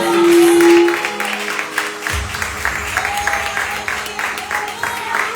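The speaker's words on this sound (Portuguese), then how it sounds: "E as palmas agradecem o nome santo do Senhor." A church congregation claps during a deliverance service, a burst of applause from a crowd that starts after a sustained tone and carries on as a steady patter.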